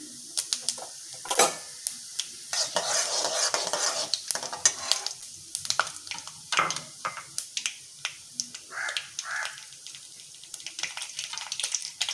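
Rapid crackling and popping of mustard seeds in hot oil, a dense irregular spatter that keeps going, close and fairly quiet, with no voices.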